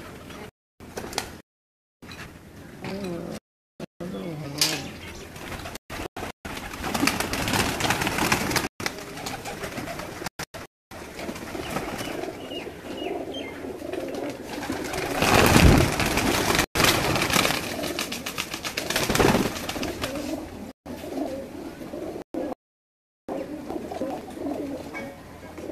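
Pigeons coo softly on a rooftop in Kasur, their low repeated calls running through a choppy, fragmented recording, with a rumbling gust or thump midway and no clear talking.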